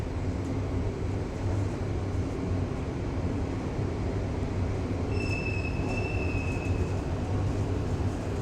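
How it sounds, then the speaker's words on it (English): An inclined elevator's counterweight rumbles steadily down its shaftway at a Washington Metro station, giving a continuous low mechanical drone with a faint high squeal partway through and no talking. "There's Mr. Counterweight chugging down the shaft."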